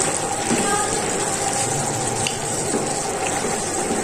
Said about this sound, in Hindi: जो सूजी हमने भून के रखी है, हम इसमें डाल के तो हम इसको थोड़ा सा पकाएंगे